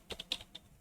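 Faint, close computer keyboard typing: four or five quick key clicks in under a second, with no voice.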